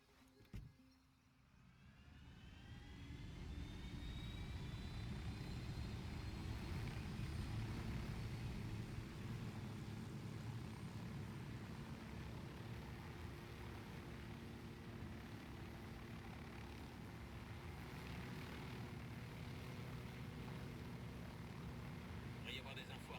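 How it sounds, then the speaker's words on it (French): Helicopter flying in Ghost Recon Wildlands, a steady loud rotor and engine drone that swells in after a quiet start and holds for the rest, with a low rumbling texture and faint overlaid game sounds. "Mon hélico, toujours."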